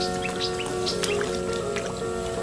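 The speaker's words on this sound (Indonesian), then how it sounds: "Oh, burung mantap ya, tuh. Burung cuit, ceciwik." Small birds chirp in short, high tweets over a rice field, with a continuous hum and faint watery noise underneath.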